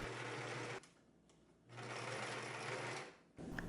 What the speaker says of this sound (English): Sew into place with a 1/4 inch seam allowance.